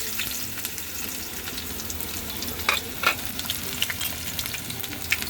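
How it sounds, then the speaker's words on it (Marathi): Half an onion sizzling steadily in four spoons of hot oil as a Malvani-style masala base, a dense crackling hiss with a few louder pops and stirring clinks, close and continuous with no voices. "आपण आता तेलामध्ये कांदा फोडणीला दिलाय"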